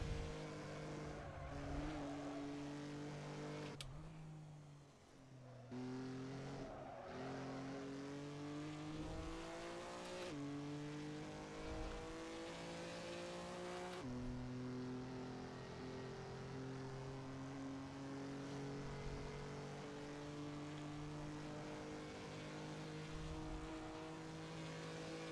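A race car in the Assetto Corsa sim racing game drives a fast lap, its engine revving high and continuous through repeated gear shifts and lifts, with occasional tire squeal and no talking.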